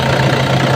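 A Toyota Innova D4D diesel engine idles steadily, a continuous loud, close rumble with a low knocking texture and no voices over it.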